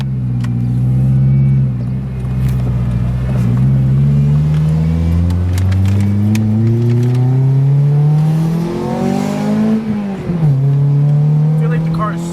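A 2001 Toyota Celica GT accelerates hard in a full pull, the engine note climbing steadily through the revs, briefly dropping at a gear change and then rising again, loud and close from inside the car.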